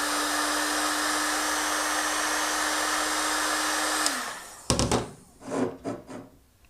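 A heat gun blows hot air onto the capsule of a wine bottle, a loud steady roar with a constant whine for about four seconds before it cuts off, followed by a few soft knocks and rustling handling sounds.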